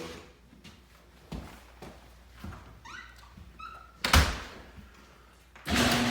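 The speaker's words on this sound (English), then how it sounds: "Might want to close that door." An indoor door thumps shut with a sharp slam near the end, following quieter rustling and handling noises and a few brief high squeaks, set in a house near the garage.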